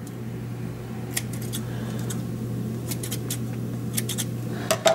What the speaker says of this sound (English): we'll go ahead and trim our threads